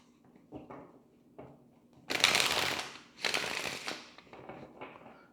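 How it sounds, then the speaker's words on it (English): Deck of tarot cards shuffled again up close, a few light taps followed by two louder bursts of riffling and some smaller flicks at the end, with no talking. "Let's get one more shuffle."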